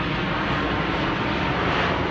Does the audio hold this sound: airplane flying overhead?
yes